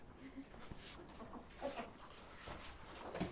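Several chickens cluck softly and intermittently nearby, with faint rustling and low background noise.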